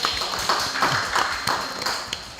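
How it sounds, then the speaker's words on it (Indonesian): Clapping for a student at a high school event, a crowd's scattered hand claps with rhythmic bursts roughly every half second, fairly close and steady throughout. "Kita kasih tepuk tangan untuk Tara teman Pro 2"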